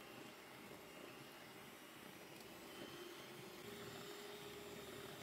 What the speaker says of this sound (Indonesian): Lanjut di mixer kembali hingga putih pucat ya atau sudah mengembang.